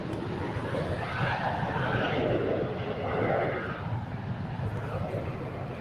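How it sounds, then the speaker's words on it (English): Japan Airlines Boeing 777 airliner heading for departure at LAX, heard as a sustained loud jet roar with a slowly shifting, swelling rumble, and no clear talk over it. "I do see a Japan Airlines 777 making its way down for a departure"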